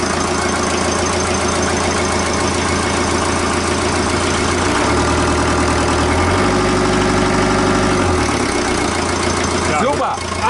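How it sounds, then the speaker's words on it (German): Sailboat's diesel engine, one injector faulty, revved in neutral on a cruising yacht in the South Seas during a storm, a loud steady rumbling drone that swells for a few seconds mid-clip before settling, with voices talking over it. "Mach mal neutral und gib mal ein bisschen Gas"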